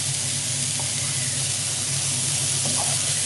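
Mushrooms frying in butter in a pan, a loud, steady sizzle and hiss close up, unbroken throughout with faint stirring touches and no speech.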